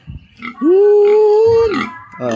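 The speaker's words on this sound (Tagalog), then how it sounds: "Simple lang alagang baboy." A backyard pig gives one loud, drawn-out grunting squeal close by, preceded and followed by shorter softer grunts.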